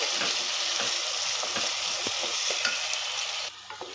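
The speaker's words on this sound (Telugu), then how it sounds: "ఇప్పుడైతే ఆనియన్స్ బాగా వేగిపోయినాయి కదా ఫ్రెండ్స్" Onions fry with ginger garlic paste in a pan for chicken curry, a dense, steady sizzle with soft scraping stir strokes, close and continuous, with no voices.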